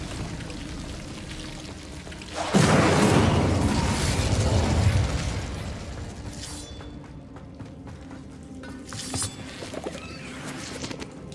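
An Incendio fire spell in Hogwarts Legacy erupts with a sudden whooshing burst of flame, a loud roaring rush that holds for about three seconds before fading, followed later by softer crackles amid ambient game sound.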